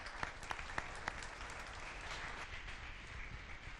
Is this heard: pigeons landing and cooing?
no